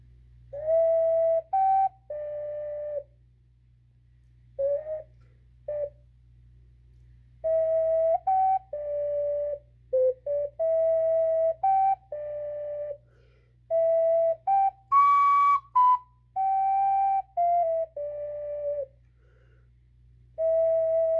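A clear, breathy ocarina playing a melody, short sustained notes and brief pauses, alone over a low steady hum.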